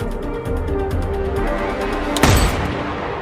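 A single sharp gunshot cracks out late in a sniper duel in a film, loud and sudden over a low, steady rumble of background score.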